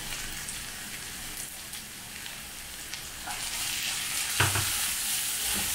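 Leeks frying with tomato paste in a pan, a steady crackling sizzle with occasional stirring scrapes and a brief clatter near the end.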